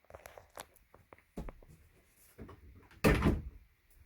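Doors in the bunk room of a 2008 Forest River Sandpiper 316BHT RV, with a few light knocks and rattles followed by a firmer closing thud near the end.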